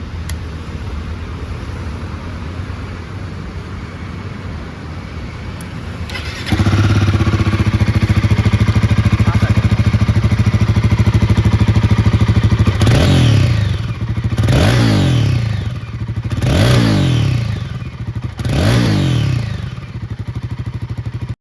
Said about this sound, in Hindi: इस बाइक का एग्जॉस्ट नोट सुनते हैं